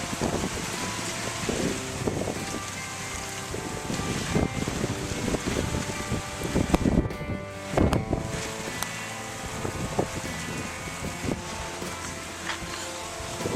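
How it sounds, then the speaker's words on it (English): Loud wind buffets the microphone outdoors in rainy Wyoming while touring across America by bicycle, a continuous rushing roar with gusty swells and rattling, and no speech. "It's a little windy right now."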